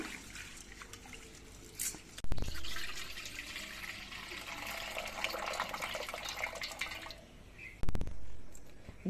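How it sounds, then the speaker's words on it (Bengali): Lentils being washed by hand in a bowl of water, soft swishing and trickling with a couple of louder splashes as water is poured or tipped out, close and fairly quiet. "আমি এই জন্য ডালগুলো ধুয়ে নিচ্ছি বেশ কয়েকবার ধুয়ে নেব"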